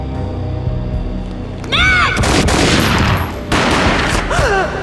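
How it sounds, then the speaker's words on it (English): Loud gunfire from the video game Max Payne: a rough, sustained burst of shots that comes in two blasts close together, over a humming game background, with brief tonal game sounds near the start and end. "A gunshot boomed and she fell down in slow motion"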